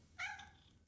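A single cat meow from the video game Wanted: Dead, a short clear harmonic cry that rises and fades within a second, heard alone against a faint low background hum.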